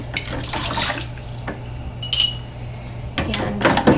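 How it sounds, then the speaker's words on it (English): Peach barbecue sauce ladled into a hot canning jar in a home kitchen, with clinks of metal on glass, dish and utensil clatter and wet sloshing sounds, close and fairly quiet, with louder clanks near the end. "we are going to ladle our sauce into a hot jar"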